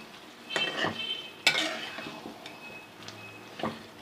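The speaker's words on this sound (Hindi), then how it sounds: "और थोड़ा सा मज़ीद भून लेंगे।" Kulfa greens with chana dal and garam masala being stirred and fried in a pan, with a quiet sizzle under repeated scraping spoon strokes in an uneven rhythm, close by.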